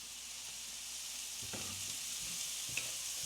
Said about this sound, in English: I'm going to add just a little bit of oil to the pan now.